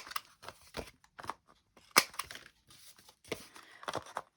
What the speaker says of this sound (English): I'm going to just round the fold over corners